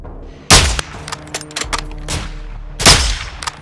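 Two loud, sharp sniper rifle shots in Modern Warfare 2, each followed by a long echoing tail, with faint clicks and bolt handling in between.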